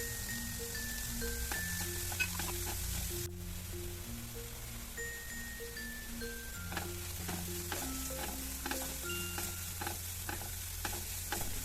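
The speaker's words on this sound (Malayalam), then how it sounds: "ഇതിലേക്ക് അരിഞ്ഞു വെച്ച പച്ചക്കറിയെല്ലാം ചേർത്തിട്ട് ഇത് നല്ലോണം ഒന്ന് വാട്ടിയെടുക്കണം." Chopped vegetables with green chilli and ginger sautéing in a hot pan as potato snacks are made, a steady close sizzle with occasional light stirring scrapes beneath soft background music.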